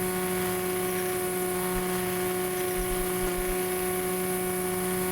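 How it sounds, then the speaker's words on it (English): Model airplane engine running in the Balsa Model Flight Simulator game, a steady buzzing whine with a constant tonal drone that holds evenly throughout. "Oh no, turn engine off."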